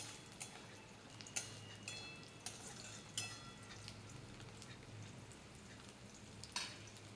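Garlic and nuts fry in a pan with a steady close sizzle, while a utensil stirs and taps the pan at irregular intervals; no one speaks.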